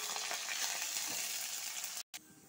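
Chopped garlic and onion fry in a pan with a soft, steady sizzle that runs close and unbroken, then cuts out for a moment near the end; nobody talks.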